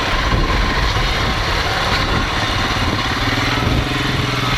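A Royal Enfield Himalayan BS4 motorcycle engine runs close and loud in traffic, with a continuous low thumping rumble and no break.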